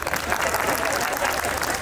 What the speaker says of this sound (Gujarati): આમાં તાળી પાડવાની હોય